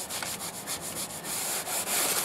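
A 3M abrasive pad scrubs bottom paint from a boat hull over an epoxy barrier coat, giving close, continuous rasping strokes in uneven back-and-forth pulses.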